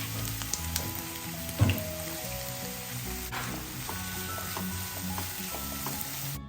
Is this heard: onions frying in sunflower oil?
yes